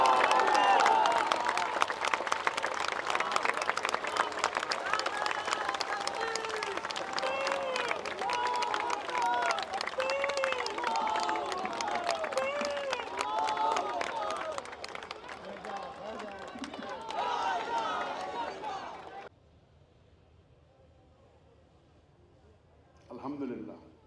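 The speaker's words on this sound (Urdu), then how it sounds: "آپ کی بھرپور تالیوں میں اپنی سیٹ سے اٹھ کر ڈاکٹر ذاکر نائک صاحب کا استقبال کیجیے" At the Sindh governor house, an audience applauds and cheers as Dr Zakir Naik is welcomed, a dense crowd clapping with voices mixed in that carries for most of the span, then cuts to near silence and a brief final burst.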